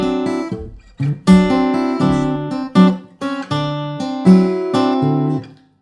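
A fingerstyle blues shuffle in A on guitar rings out close and clear, with a swung, loping bass on the open string under repeated plucked chord fragments across several bars, ending on a held note.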